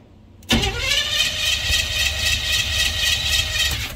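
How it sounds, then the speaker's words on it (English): A square body Chevrolet truck engine cold-starts after a quiet moment, catching abruptly and settling into a loud, steady, slightly rough idle close by, with no talking. "Let's do a cold start."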